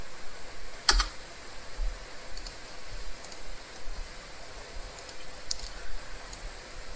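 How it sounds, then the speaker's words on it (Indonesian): Fingers type on a computer keyboard while text is entered into an Excel spreadsheet, producing a steady run of close, light key clicks with a couple of sharper taps, with no speech. "Lalu di sini kita ketik drinks ya."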